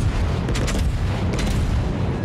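Booming main-gun salvo from a battleship in World of Warships, a heavy, loud, low rumbling blast that rolls on continuously through the short stretch with no speech over it.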